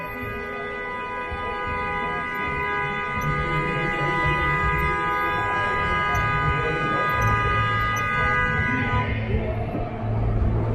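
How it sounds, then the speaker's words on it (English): A long, sustained car horn blares steadily for about nine seconds over street noise at a crowded street festival in Toronto's Little Italy, then cuts off, leaving traffic rumble. "that was an unnecessarily long honk"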